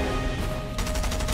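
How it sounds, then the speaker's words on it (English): Short, rapid burst of gunfire in a shooter video game, fired from just over the player's shoulder, sounding close and loud. It starts in the second half of the brief moment. "Bro, he was shooting over my shoulder."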